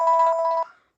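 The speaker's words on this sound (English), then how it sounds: "Now, this is ringtone number 1 and this is ringtone number 2" A short phone ringtone plays a fast series of about seven pulsed bell-like tones, then cuts off and fades into silence.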